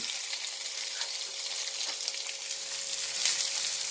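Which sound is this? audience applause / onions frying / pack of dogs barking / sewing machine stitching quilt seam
onions frying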